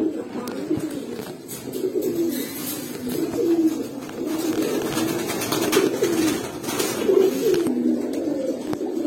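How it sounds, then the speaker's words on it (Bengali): Old-breed high flyer pigeons coo steadily in a loft, low rolling calls repeating close by with little else over them. "এগুলো হাই ফ্লায়ার কবুতর"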